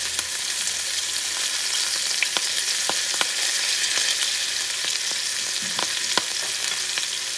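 Onion, cilantro and culantro sofrito frying over medium heat in a pan for braised beef short ribs, with a steady dense sizzle and occasional sharp clicks of stirring throughout, no voices.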